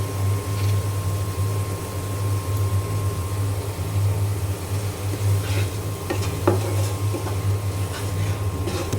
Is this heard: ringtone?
no